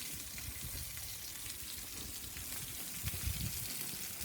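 Cowboy rib-eye steaks sizzle and fry steadily in a hot pan, a continuous close crackling hiss with small pops, swelling slightly louder near the end, no talking.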